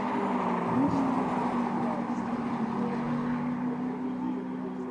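Ferrari race cars at the Mugello circuit, engines droning steadily with sustained high-pitched tones that rise and fall slightly as the cars run, loud and continuous throughout.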